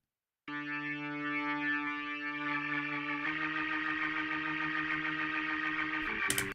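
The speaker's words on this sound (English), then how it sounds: "here's the sound of a Leslie spinning up, going from standing still to spinning like crazy." Organ played through a Leslie rotating speaker cabinet spinning up from standing still to full speed, a sustained chord that begins steady and then takes on a growing swirl and warble, continuous and moderately loud.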